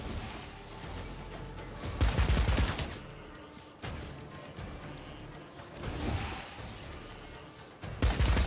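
Bursts of gunfire in a Warhammer video game, several loud rapid volleys separated by short lulls, layered over a dense, continuous battle din with no talking.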